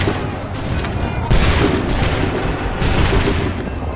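Musket volleys crack in Assassin's Creed 3 Remastered, dense booming bursts that land in two or three heavy waves over a rumbling battlefield background.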